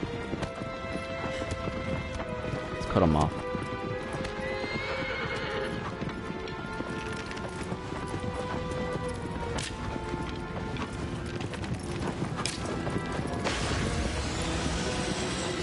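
A horse in the Shadow of the Colossus video game gallops with rapid clip-clop hoofbeats, whinnies once loudly, and runs on under game sound effects and music, while someone talks briefly.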